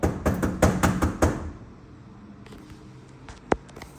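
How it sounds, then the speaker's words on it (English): Knocking on an apartment door: a quick run of loud, sharp raps, then quieter room sound and a single faint tap afterward. "I heard some knocks"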